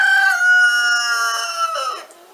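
A rooster crows once, long and loud, close by with a hoarse, raspy quality, the call holding steady before trailing off at the end.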